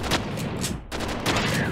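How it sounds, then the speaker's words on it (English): Automatic gunfire in the first-person shooter Gun Godz, a dense fusillade of rapid shots in loud bursts with a brief pause near the middle, continuing without speech. "I don't like automatic guns"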